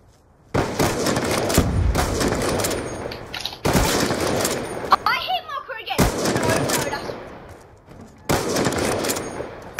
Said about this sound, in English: You're shooting through the metal,